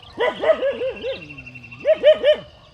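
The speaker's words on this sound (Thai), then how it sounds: "เห็นหมามากระหลวงพ่อเห่าเชียว" A dog barks at a monk during a morning alms round, giving a close run of sharp yapping barks, then a drawn-out whine, then a few more quick barks.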